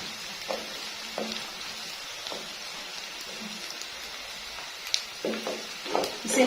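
Whole cardamom pods and a small piece of cinnamon fry in a pan, giving a low steady sizzle with scattered pops and crackles that grow busier toward the end, close by and alone.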